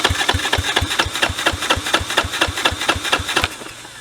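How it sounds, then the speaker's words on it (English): An old motorcycle engine turns over with the fuel switched on. Loud, close, evenly spaced firing pulses beat in a steady rhythm, then ease off near the end. "Let's let her turn over a little bit"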